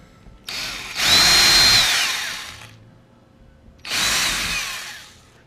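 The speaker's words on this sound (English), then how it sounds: "Now I can drill out some of these holes here" A power drill whirs through two separate bursts drilling bolt holes for a boat's pilot hatch, the first longer with a rising whine, the second shorter, close and loud with brief pauses between.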